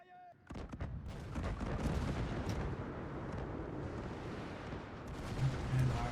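In a Shogun 2: Fall of the Samurai Carlist Wars battle, 6-pounder artillery and gunfire roll together into a dense, continuous roar. The booming barrage swells loudly and holds for several seconds.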